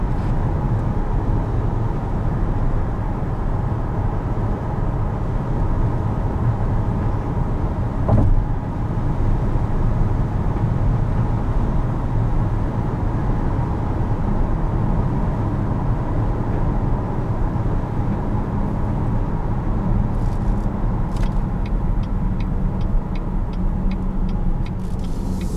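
Steady engine and road noise from a 2019 GMC Acadia Denali with its 3.6-liter engine while driving, a continuous low rumble with tire hum, heard alone without talk.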